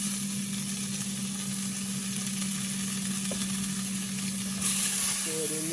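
Butter sizzles steadily in a hot pan alongside cooking chicken wings, a continuous close hiss with a low hum underneath and a brief clatter near the end.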